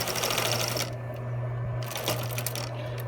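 A sewing machine runs in steady bursts, stitching around a medical mask cover, with a brief pause midway before the motor hum and rapid needle chatter resume, close and clear with no talk.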